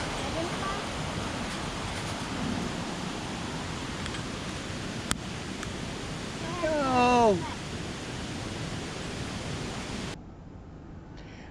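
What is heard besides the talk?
Berkelah Waterfall rushing water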